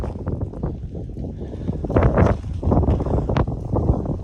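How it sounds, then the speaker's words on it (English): Steady wind noise rumbles against the microphone throughout, gusting louder midway, with scattered thumps and rustles close by. "It's a little bit windy"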